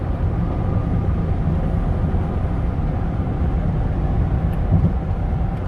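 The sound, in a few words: 2015 Ford Expedition EL Platinum cruising at 75 mph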